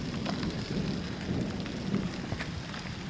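Steady rain patters on a hiking trail in the Boundary Waters wilderness, with low thunder rumbling underneath throughout.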